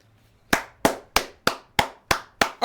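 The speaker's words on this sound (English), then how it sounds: "Applaud this man." Seven sharp, evenly spaced hand claps ring out alone at a slow steady beat, applauding a Fortnite trio tournament player, each clap loud and close with a quick decay.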